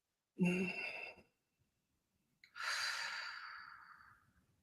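A slow, deep breath is drawn in and then let out in a long, soft exhale during a calm guided meditation, with a quiet pause between the two breaths.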